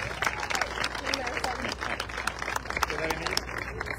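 Applause from a crowd, steady clapping throughout with a busy mix of claps and some background voices.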